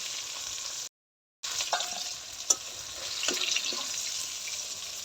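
Pieces of rui fish fry in hot oil with a steady, hissing sizzle, close by. A brief gap of silence breaks it, and a few faint clinks follow.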